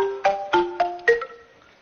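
A phone ringtone for an incoming call sounds inside a car during a driving lesson: four bright melodic tone bursts in quick succession, clear and close, fading out with no talking.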